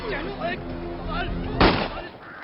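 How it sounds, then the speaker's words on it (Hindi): A single sharp gunshot cracks out mid-scene over music and background noise, loud and close. "गोली चल गई"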